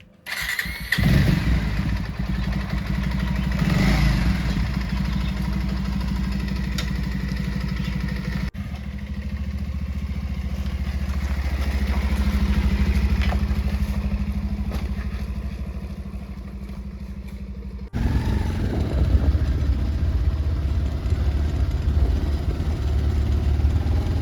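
A vehicle engine cranks and catches abruptly, then settles into a steady, fairly loud idle with a rough mid-range drone that dips and swells slightly before a sudden shift partway through, with no talking.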